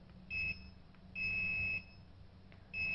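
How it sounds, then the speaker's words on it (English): An LED RGB strip controller gives a piercing electronic tone, with a short beep followed by a long sustained beep and then another starting at the end, over low background hum. "When you reach to the last level, there is a long beep and the light change in a circle."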